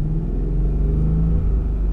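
Engine of a manual car from standstill, revved too early as gas is applied before the clutch bites: a steady low rumble with a slight swell, close and loud, with no talk.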